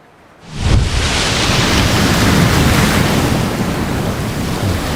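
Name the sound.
ocean water ambience in the Subnautica video game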